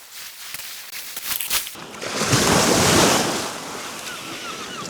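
Sea waves wash onto the beach at Holland on Sea, a soft rolling surf that swells to a loud broadband rush midway and eases off, with wind buffeting the microphone throughout.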